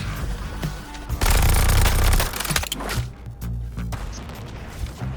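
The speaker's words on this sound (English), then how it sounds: "The gun's firing!" Weapon fire in the video game Suicide Squad Kill the Justice League, a dense loud burst of rapid shots mid-clip over a busy game soundtrack with explosions and crashes around it.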